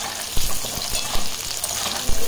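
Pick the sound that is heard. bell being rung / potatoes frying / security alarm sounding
potatoes frying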